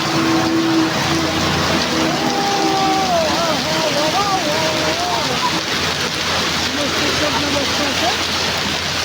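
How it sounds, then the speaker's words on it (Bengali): A hailstorm rattles down in a dense, constant roar of impacts that never lets up, while a voice talks over it and a vehicle engine drones faintly in the background. "খুব শিলাবৃষ্টি হইতেছে এখন আরারে, অনেক শিলাবৃষ্টি চলছে।"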